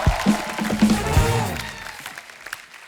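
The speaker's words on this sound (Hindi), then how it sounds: "जोरदार तालियां टीकू सर के लिए" An audience claps steadily for actor Tiku Talsania on a Kapil Sharma Show comedy set. The applause is dense and moderately loud, with a voice and musical tones rising over it before everything fades out.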